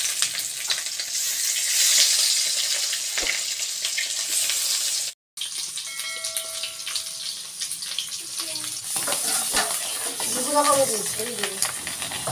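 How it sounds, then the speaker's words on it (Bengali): Fish roe fries in a wok, giving a steady loud sizzle and crackle throughout, broken by one brief gap, while a voice speaks faintly under the frying. "এয়া মাছ ভজা কেৰাহীখনতে মই মাছৰ কণীবিলাক ভাজিব দিলোঁ"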